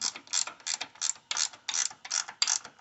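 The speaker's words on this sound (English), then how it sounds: "So I'll take these two bolts out" Quick ratchet clicking in repeated short bursts, close and clear with no talk, as nuts are backed off a motor support on a 1982 air-cooled VW Vanagon Westfalia during restoration.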